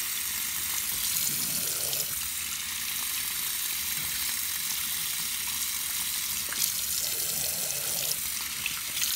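Cold tap water runs steadily into a sink during the washing of mochi squishy toys, a continuous close hiss with faint splashing changes as the toys move under the stream.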